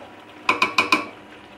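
A spoon knocks four times against the side of a pot while mutton curry is stirred, sharp metallic clinks in a quick uneven run, close and fairly loud against a quiet kitchen.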